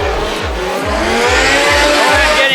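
A drift car at a Formula Drift-style event in Las Vegas squeals its tires loudly as it initiates a slide, engine pulsing in rapid rhythmic revs beneath a sustained high screech, close and intense.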